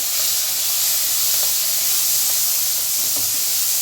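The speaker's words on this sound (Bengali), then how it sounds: "এবার আমি চিংড়িগুলো ছেড়ে দেবো" Prawns frying in hot oil in a pan, a steady loud hiss of sizzling that holds evenly throughout, with a few faint clicks and no voices.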